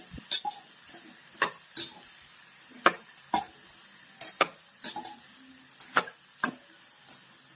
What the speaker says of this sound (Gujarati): હવે ભીંડોને શેલો ફ્રાય કરવાનો છે